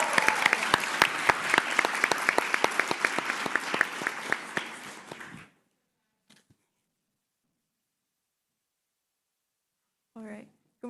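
An audience applauds at a tourism ambassador speak-off competition, a dense steady clapping that fades out after about five seconds, followed by quiet and a brief voice near the end.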